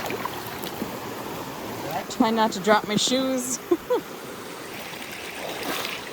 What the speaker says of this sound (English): We've got to cross this river and get wet.